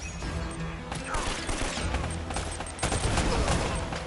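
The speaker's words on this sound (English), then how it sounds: "Oh cool, a grenade." Explosion and gunfire in Uncharted: Drake's Fortune, a noisy combat stretch of rattling shots, crashes and debris, loud and continuous with a heavier blast near the end.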